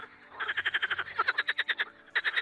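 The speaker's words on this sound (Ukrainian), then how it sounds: "У першій половині травня розпочинають свої концерти ставкові жаби." Pond frogs croak in a spring chorus, a fast run of loud, rhythmic pulses that pauses briefly and starts again, with no voices.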